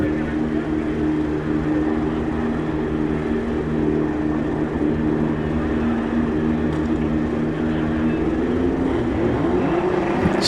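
A 1988 Suzuki drag racing motorcycle ridden by David Stewart launches down the strip at a drag racing event, a loud, steady engine roar that holds throughout, with crowd and track ambience underneath and no distinct pauses.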